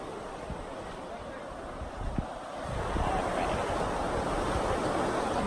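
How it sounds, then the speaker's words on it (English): Wind blowing outdoors, a steady broadband rush that swells and grows louder partway through, buffeting the microphone. "The wind doesn't help"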